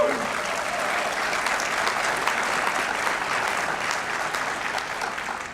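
Steady, dense audience applause at a museum-related convocation ceremony, loud and continuous from start to finish with a faint voice briefly audible at the very beginning.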